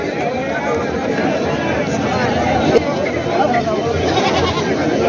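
Goats and sheep bleat over and over across a crowded livestock market in Parbhani district, Maharashtra, with calls overlapping through a constant background of buyers' and sellers' chatter.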